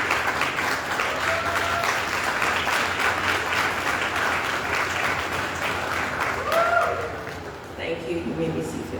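Sustained applause for university staff at a graduation ceremony, a large audience clapping continuously at a steady level, with some voices and a brief tonal sound near the end.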